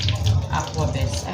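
A separate household tap for mineral water runs in a steady, close rushing stream for the whole moment, with faint voice-like sounds mixed into the flow.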